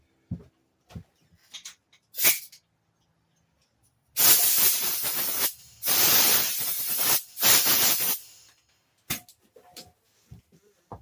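An air compressor nozzle blasts debris out of an Arctic Cat Ramrod's front shocks in a workshop: three loud, sustained bursts of rushing air midway, framed by quiet stretches with scattered small clicks and knocks.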